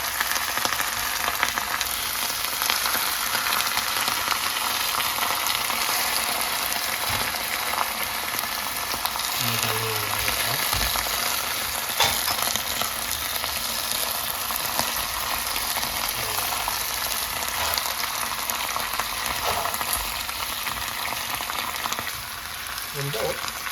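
Galbi ribs fry in cooking oil with a dense, continuous crackling sizzle that holds steady throughout, a voice briefly and faintly heard underneath.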